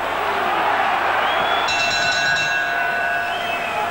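A boxing crowd at a European title fight in 1985 roars loudly and continuously, with a sustained wall of cheering and scattered whoops and whistles throughout.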